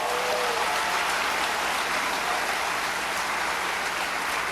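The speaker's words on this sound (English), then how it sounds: "Let's give them a round of applause." A school convocation crowd claps steadily throughout, a dense, even wash of applause with no voices standing out.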